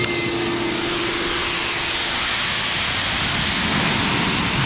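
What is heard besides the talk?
air blower blowing water off a ceramic coated car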